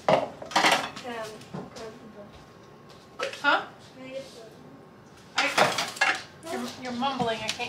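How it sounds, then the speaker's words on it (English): Dishes and cutlery clink and clatter in a home kitchen in several bright bursts with pauses between them. People talk intermittently over the clattering. "I need to do dishes."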